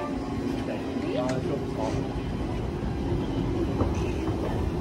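Low, constant rumble of a moving train interior in Perth, with faint voices talking in the background.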